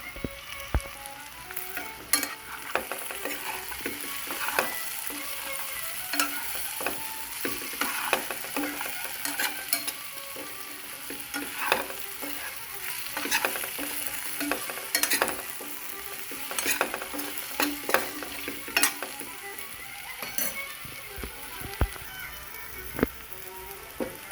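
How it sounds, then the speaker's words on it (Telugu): Crushed garlic, ginger and cumin paste frying in a curry pan, a steady close sizzle with frequent scraping and clinking stir strokes throughout. "ఇప్పుడు ఈ తెల్లుల్లి అల్లం జీలకర్ర దంచుకున్నాం కదా ఇప్పుడు వేసుకోవాలి"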